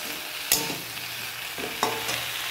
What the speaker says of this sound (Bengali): টমেটো আদা বাটাগুলো দেওয়ার সঙ্গে সঙ্গে এটাকে ভালো করে আবার নেড়ে নিচ্ছি।